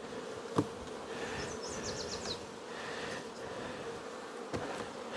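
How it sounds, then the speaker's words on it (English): A swarm of honey bees gives off a faint, steady buzz, with a few brief chirps and a soft knock over the low hum. "once you hear the sound of a swarm, you don't forget it"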